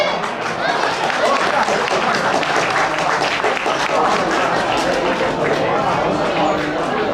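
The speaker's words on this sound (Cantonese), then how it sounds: "大家俾啲掌聲。" An audience at a celebration dinner for Oxfam Trailwalker hikers claps in sustained, dense applause for about seven seconds, loud and close, with some cheering voices mixed in.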